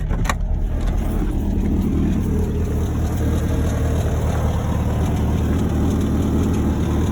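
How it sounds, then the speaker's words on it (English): A car engine with aftermarket headers and a worn bearing idles close by, a steady, rough low rumble with a slightly uneven exhaust note. It runs unbroken through the whole stretch with no voices. "You can kind of hear there's something a little bit off about the exhaust."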